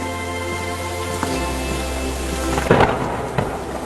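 Heavy rain hisses steadily beside a roadside dhaba, then a loud, close thunderclap bursts and rumbles on under the downpour.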